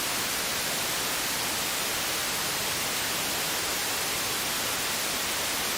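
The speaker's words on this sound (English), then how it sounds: "Okay, so it's just white noise." Steady, even hiss of synthesizer white noise from Reason 12, with no change in level or tone, sustained throughout.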